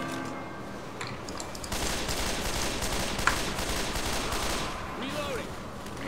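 Gunfire in Left 4 Dead 2 during a horde attack, with bursts of rapid shots firing continuously across the middle of the clip over game noise, after a quieter start.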